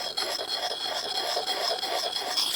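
An axe blade is sharpened with a steady circular grinding stroke, giving a continuous close rasping scrape that stays even in level throughout, with no talking.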